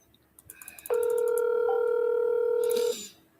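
A telephone call being placed: a quick series of short dial tones, then one steady, clear ringback tone held for about two seconds before it cuts off.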